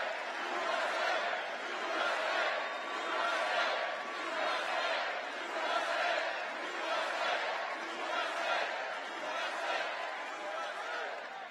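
A big crowd at a Trump rally in Green Bay, Wisconsin, cheers in rolling, rhythmic swells of voices that rise and fall about once a second, loud and continuous throughout.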